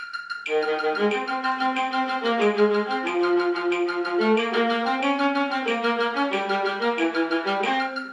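A viola plays a steady run of evenly subdivided notes over a metronome, close and clear, moving through a simple melody without pause.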